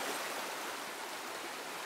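A shallow river runs past a campsite in a remote mountain hot-spring area, giving a steady, close, broadband rushing and babbling of water with no voices over it.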